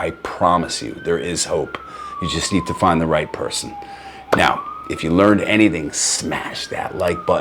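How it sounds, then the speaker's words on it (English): A wailing emergency vehicle siren on a New York City street sweeps slowly up and down in pitch behind someone talking continuously close to the microphone. "Sorry about the sirens."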